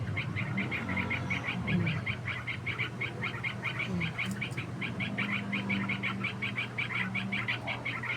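Several birds call noisily and repeatedly in a steady chattering chorus that runs the whole time, close by, with a brief murmured voice in the middle.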